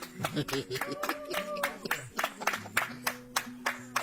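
Rhythmic hand clapping keeps a steady beat through sung voices and music at a church ceremony laying the first stone of a welcome house, sharp and close throughout.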